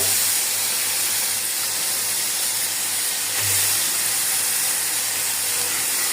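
Washed tengra fish dropped into hot oil with cooked-down spices, giving a loud, steady hiss and sizzle that continues unbroken, close up, with no voices.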